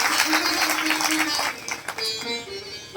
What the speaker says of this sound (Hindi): एक बार जोरदार ताली हमारे सभी यजमानों के लिए।